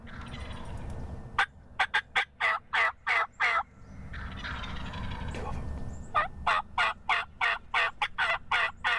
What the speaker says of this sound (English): We started hearing these birds in the background, and they really started hammering, and they were coming closer and closer.